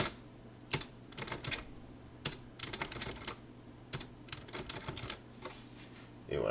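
Typing on a computer keyboard while writing a report in LibreOffice Writer, quiet rapid clusters of key clicks in short bursts separated by pauses.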